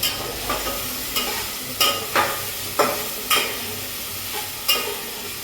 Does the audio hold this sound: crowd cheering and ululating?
no